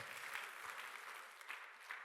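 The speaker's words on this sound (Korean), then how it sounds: "박수." Church congregation applauding during a Korean sermon, a faint, distant patter of clapping with small surges, quiet and without talk.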